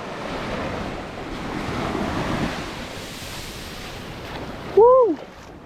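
Ocean surf at a beach in the Bay of Fires, Tasmania, rolls in as a steady broad wash with wind buffeting the microphone; near the end a short rising whistle or voice cuts in briefly.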